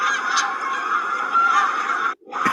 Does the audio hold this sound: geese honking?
yes